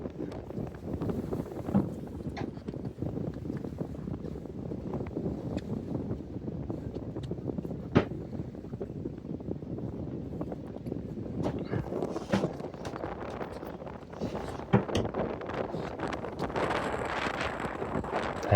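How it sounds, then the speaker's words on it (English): Sails coming down on a 90-year-old gaff-rigged sailboat under solo handling: steady wind buffeting and rustling canvas with scattered knocks and clatters of rigging, continuous and fairly loud outdoors. "I release both halyards and I have to pull the sail down"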